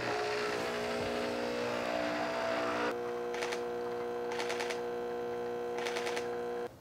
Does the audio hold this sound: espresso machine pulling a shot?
yes